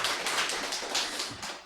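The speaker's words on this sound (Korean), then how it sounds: "우리 박수 한번 쳐볼까요?" A church congregation at a Sunday Baptist service claps steadily in even, rhythmic pulses that carry through the whole moment.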